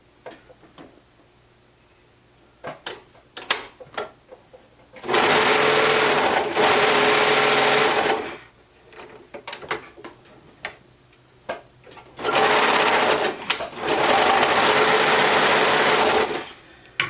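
A serger overlocker sews pink rib knit fabric in two long, loud, rapid mechanical bursts, with faint ticks and handling noises in the quiet stretches between.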